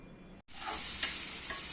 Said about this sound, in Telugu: స్టవ్ మీద కడాయి పెట్టుకొని ఆయిల్ వేసుకొని దాంట్లో ఉల్లిపాయలు వేసుకోవాలి.